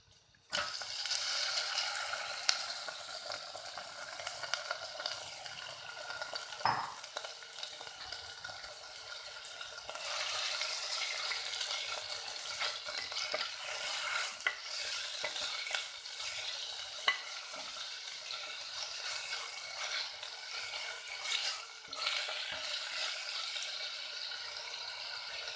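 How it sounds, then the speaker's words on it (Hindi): Chicken frying in two to three tablespoons of oil in a saucepan for chicken tikka crepes: a steady close sizzle runs throughout, with intermittent stirring scrapes and a few sharp clinks of utensil on pan. "इसमें 2 से 3 टेबलस्पून ऑयल डालेंगे और चिकन डाल के इसको अच्छी तरह से फ्राई कर लेंगे।"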